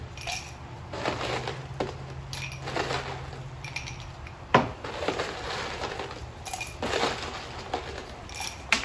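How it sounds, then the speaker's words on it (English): Ice cubes dropped into cocktail glasses, scattered clinks and rattles of cubes knocking against glass, in irregular bursts with quiet gaps between, close and fairly soft. "Let's put some ice in our glasses"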